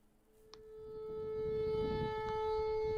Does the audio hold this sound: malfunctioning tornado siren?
yes